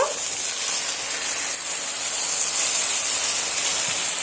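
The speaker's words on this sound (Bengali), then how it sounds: "এবার আমি অল্প পরিমাণ মতন এখানে পানি অ্যাড করে দেব" Water poured into a hot pan of fried long beans and potatoes with spices erupts into a loud, steady steaming hiss that fills the whole stretch, with no talk.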